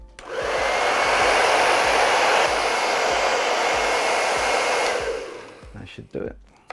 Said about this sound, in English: So we're just going to speed up the drying by using a hairdryer on a low heat.